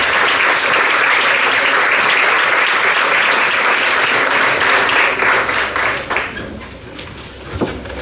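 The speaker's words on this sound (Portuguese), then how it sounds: "Vosso aplauso para Vítor Manuel Adrião." Loud, sustained applause from an audience at a lecture welcoming a speaker, thick and continuous at first, then thinning into scattered claps toward the end.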